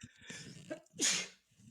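A single sharp sneeze bursts out nearby after a quick intake of breath, loud against a quiet background.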